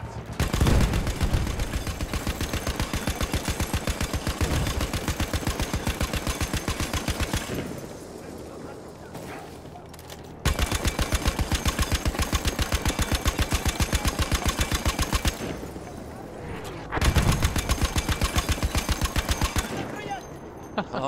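Battlefield 1 machine gun fire: long sustained rapid bursts of evenly spaced shots, loud and close, broken by a few brief pauses before the firing resumes.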